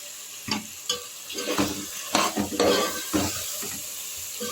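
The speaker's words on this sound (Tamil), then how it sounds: "வாசம் போகிற வரைக்கும் நல்லா கிண்டுவோம். எண்ணெயெல்லாம் பிரிஞ்சு வரும்." Chicken 65 biryani masala frying in oil is stirred in a pot, steady sizzling broken by repeated scraping and clanking strokes of a spoon against the metal, close and fairly loud, with no talk.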